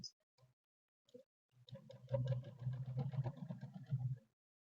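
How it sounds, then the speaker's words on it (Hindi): Sewing machine stitching the seam of a Madhubala-style blouse, starting with a few short taps before running into a steady, close, continuous mechanical whir for about three seconds, then stopping. "अब हम यहाँ पे ही इसमें सिलाई लगाएंगे।"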